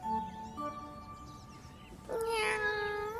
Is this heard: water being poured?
no